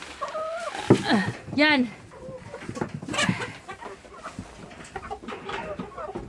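Chickens on a small farm, including laying hens, cluck and squawk close by during feeding, with a sharp bird call near the start and people talking over the clucking throughout.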